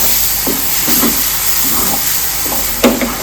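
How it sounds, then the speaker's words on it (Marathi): Milk poured into hot roasted besan (gram flour) for besan ladoo, a continuous loud hiss and sizzle with intermittent stirring scrapes and a brief clatter near the end. "आता आपण पाववाटी दूध ओतून घेऊया मिक्स करूया"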